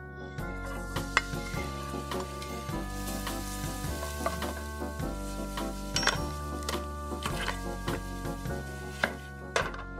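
Garlic sizzles and fries in olive oil in a pan over medium heat, a steady crackle running beneath loud background music for the whole stretch.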